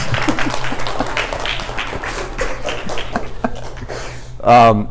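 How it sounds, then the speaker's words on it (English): Fifth-grade students in an elementary school classroom give a scattered round of applause under ongoing children's chatter, the claps fading out before a louder voice at the end. "Round of applause. Round of applause."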